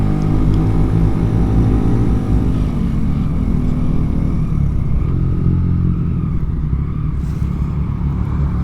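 A motorcycle rides through busy traffic with a loud, continuous engine drone and broad road rumble, the sound steady and close throughout, without speech.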